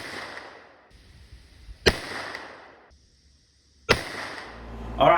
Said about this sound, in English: let's go ahead and let's shoot the Hornady bore drivers at 290 grain